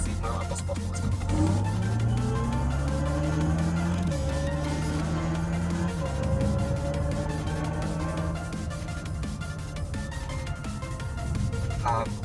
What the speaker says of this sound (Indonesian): Dan sekarang kita mau coba geber mobil ini dalam keadaan maksimal atau sport mode.